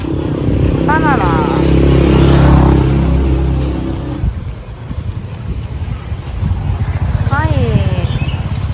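Motorcycles ride through the narrow streets of Hoi An's old town in Vietnam. Engines rumble loudly and close, with revving whines rising and falling as bikes pass, and wind buffets the microphone.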